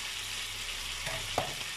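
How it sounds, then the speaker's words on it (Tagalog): Filipino sweet longganisa sausage frying in a pan, giving a steady close sizzle with a couple of soft stirring knocks near the end, and no talking. "magluto ng ating ano, sweet longganisa"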